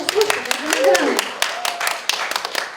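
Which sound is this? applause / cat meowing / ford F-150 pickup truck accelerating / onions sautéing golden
applause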